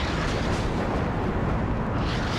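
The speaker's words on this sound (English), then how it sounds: "So this is the artillery that was decimating me." Artillery rumbles in the WARNO strategy game, a dense continuous roar of distant shelling and explosions that holds steady and loud with no pauses.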